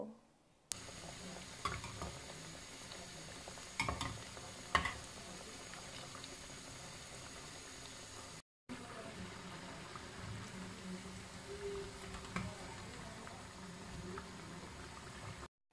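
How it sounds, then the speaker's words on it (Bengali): Pitha rice cakes deep-frying in oil, a continuous bubbling sizzle with a few clinks and scrapes as they are turned, heard alone. "এভাবে উল্টে পাল্টে লালচে করে ভেজে নেব।"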